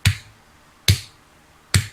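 Three sharp, separate claps spaced under a second apart, each a crisp bright crack with a short tail, close by with no talking.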